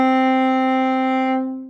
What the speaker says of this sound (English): Like that core of the string sounds like this.